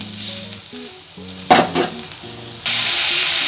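Fried onion being stirred with salt, turmeric and green chillies in a pan, a soft scraping sizzle with a louder burst of clatter midway, then a steady bright hiss to the end; no talking.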